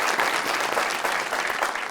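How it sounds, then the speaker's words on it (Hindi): A live-show studio audience applauds a singer after his performance, with steady, dense clapping filling the full two seconds at moderate loudness and no voices. "उनके लिए तालियां बजा दें, हमारे लेजेंड"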